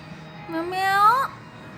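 A kitten gives a single drawn-out mew that rises in pitch, close by and clear against a quiet room.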